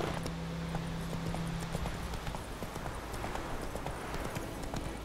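In The Witcher 3: Wild Hunt, horse hooves clip-clop in a quick steady trot over ground, continuous and fairly close, with a low ambient game background.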